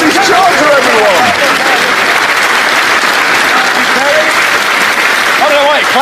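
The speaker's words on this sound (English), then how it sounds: "I don't know why you're clapping." Loud, sustained applause from a television studio audience, steady and dense throughout, with cheering and whoops rising above the clapping.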